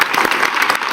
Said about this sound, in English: let's give the Prime Minister a warm applause for coming back after 13 years